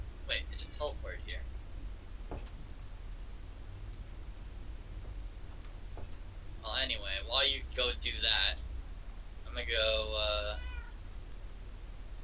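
Several meows from cats in the Minecraft video game come in two quick bursts partway through, over a steady low hum, with people talking around them.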